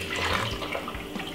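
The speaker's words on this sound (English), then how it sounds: "put a little bit of water" Water pours steadily into a blender for making sugar cane juice, a continuous splashing, gurgling rush of liquid heard close and without talking.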